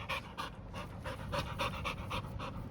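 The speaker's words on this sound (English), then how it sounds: "Y'all see all them dogs?" Several neighborhood dogs panting close by, a steady rapid rhythm of breathy huffs repeating throughout, fairly loud with no talking.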